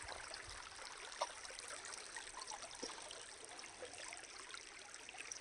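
Faint, steady trickle of creek water flowing over rocks, a continuous soft babble with no voices.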